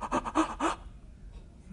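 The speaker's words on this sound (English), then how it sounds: "you end up taking some deep breaths, and this is the way your breaths sound" Several quick, deep breaths come in close succession, loud and near, then give way to near silence.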